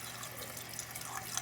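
Toilet tank water running steadily as the float fails to shut off the fill valve, a continuous hissing flow with no break, close by.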